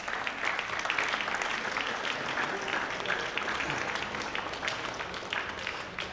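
Steady, dense audience applause fills a hall during a talk on cycling, many hands clapping together at an even level from start to finish, with no pause.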